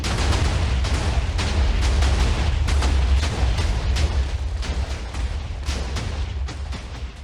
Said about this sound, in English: it's just a one-way machine, so I get to blow it up